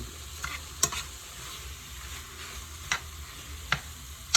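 Chicken strips with onions and peppers stir-frying in a pan, a steady low sizzle with a few sharp clicks and scrapes of stirring scattered through, no voices.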